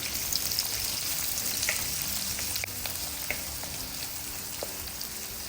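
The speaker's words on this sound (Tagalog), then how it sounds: "Hahaluin ko din lamang ito ng bahagya hanggang sa malaya ng kaunti ang ating sibuyas" Onion and garlic sautéing in a pan, a dense steady sizzle broken by occasional sharp scrapes and taps as they are stirred, close and without voices.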